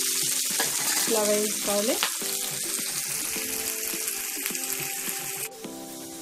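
Okra and onions frying in a pan for a Rayalaseema-style okra and red chilli dish, a steady close sizzle with stirring scrapes, a brief tap-water splash, and a short spoken phrase over the top.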